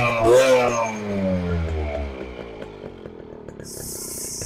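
A Suzuki Max 100 motorcycle fitted with an RX100 silencer, its two-stroke exhaust revving loudly up close then settling into a throbbing, popping idle.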